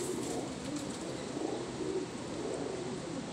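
A Firozpuri pigeon coos softly in low, rolling murmurs over a steady background hiss, with no voices nearby.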